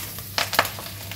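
Spices tempering in hot oil for a Bachalikura pappu (Malabar spinach dal) sizzle in two or three short, bright crackling bursts over a low steady hiss, close and alone with no talk.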